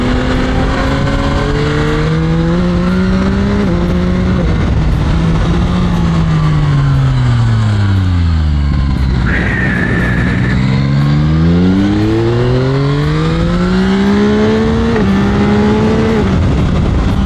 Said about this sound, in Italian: io sono col TCS off, per questo bisogna dosare bene il gas qua quando si è in curva, perché è un secondo che la moto slitta